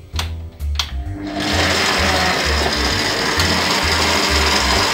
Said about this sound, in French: vous mettez le robot en marche, s'il veut bien s'allumer